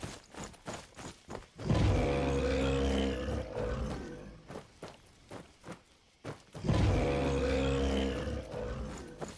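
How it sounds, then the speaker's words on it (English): Bears roaring in a modded Skyrim game, two deep, growling roars several seconds apart, each with heavy rumbling grunts and thudding steps between them. "Those bears sound like they belong in Jurassic Park."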